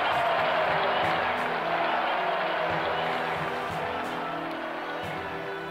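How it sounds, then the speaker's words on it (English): Steady crowd applause and cheering from the video game Evoland 2 fills the whole stretch, dense and continuous, with a faint musical bed underneath that slowly tapers. "please give a warm round of applause for"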